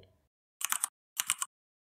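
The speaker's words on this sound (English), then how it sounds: "In order to select a key, just type it on your keyboard." Two quick bursts of typing on a computer keyboard, each a short run of three or four crisp key clicks close by, separated by a brief pause, with near silence around them.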